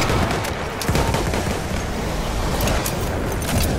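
Battlefield 1 battle with dense, continuous machine gun fire and overlapping gunshots, loud and close, filling the scene without pause.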